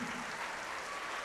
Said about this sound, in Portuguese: dar para esta palavra a melhor salva de palmas que já ouvimos aqui